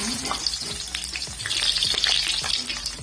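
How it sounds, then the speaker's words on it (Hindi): Tomatoes frying in ghee in a pan for potato bhujia, giving a steady close sizzle with crackles and stirring scrapes, no talk. "इसमें घी में डालूंगी इसको, और ये टमाटर डाल दूंगी इसमें"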